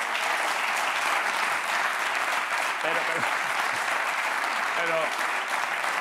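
Studio audience applause for a guest on a Spanish late-night TV show, loud and continuous throughout, with a brief voice speaking over it.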